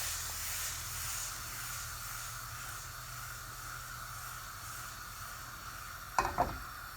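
Pot of kofta curry shaken over the heat rather than stirred: soft steady sizzling hiss, then near the end two brief knocks and a rattle of the pot moving on the stove, no voices.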